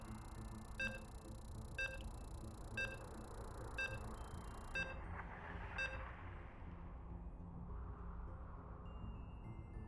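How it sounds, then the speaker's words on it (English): A series of short electronic beeps as StarCraft 2 loads the next match, repeating at a steady one-second interval over a constant background hum, ending with a brief final tone. "You can hear the beeps."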